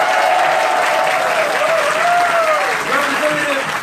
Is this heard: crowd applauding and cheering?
yes